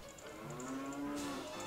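A cow in The Legend of Zelda: Ocarina of Time (Master Quest) lets out one drawn-out, droning moo under a steady background of game ambience, fairly quiet.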